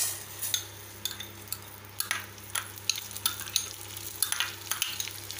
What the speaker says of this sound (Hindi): इस तरह से चावल भून लें।